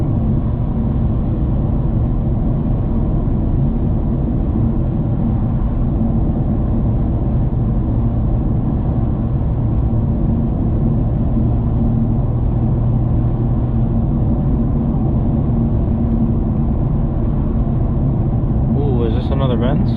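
A Mercedes C63s on new tires cruising a wet road, heard from inside the cabin: a steady, loud low rumble of engine and road noise with tire hiss, continuous and unbroken throughout.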